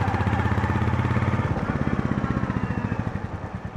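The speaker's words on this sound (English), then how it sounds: "It's got a nice thump to it." A Goan Classic 350 motorcycle engine thumps steadily up close, a rapid low pulsing beat that grows slightly more distinct as it runs.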